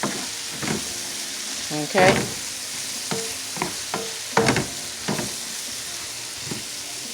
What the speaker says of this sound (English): Okay, so we're just sauteing right now.